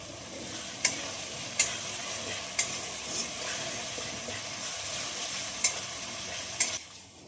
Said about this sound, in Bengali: খুব ভালোভাবে নাড়বো মশলাটা কষানোর জন্য